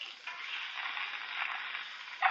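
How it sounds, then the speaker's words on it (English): White onions fry in hot oil in a pan, giving a steady bright crackling sizzle heard close and alone, with a brief louder flare at the end. "My onions are sounding pretty good in there."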